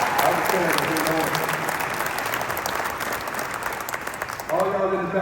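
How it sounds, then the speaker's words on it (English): An audience applauding steadily in a broad wash of clapping that runs throughout, with a voice speaking over it toward the end. "You got to give yourself an applause because you want it."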